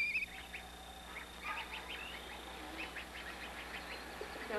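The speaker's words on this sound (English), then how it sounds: "The continual sounds between the researcher and the goslings" Young goslings raised by a researcher give soft, repeated high peeping calls in short bursts, fairly faint against a quiet background hum, with several chicks calling one after another.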